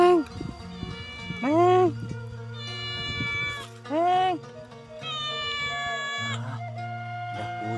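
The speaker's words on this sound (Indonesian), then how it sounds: "Wah ada kucing. Ini ada kucing hutan," A cat in a forest near a remote mountain village meows several times, clear and fairly close, with someone talking over and between the calls.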